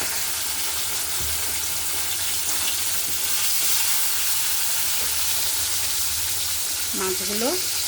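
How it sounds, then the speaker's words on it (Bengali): Tilapia fish frying in hot oil for a Bengali mustard-poppy curry, giving a steady, dense sizzle throughout, with a brief voice near the end. "এবার আমি মাছগুলো ভেজে নেব।"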